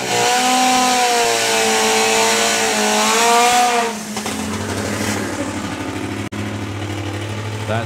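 Supercharged four-cylinder funny bike at an FIA/FIM drag racing event, a loud high-revving engine scream that sweeps up in pitch, then drops into a lower rumbling drone as the bike pulls away down the strip.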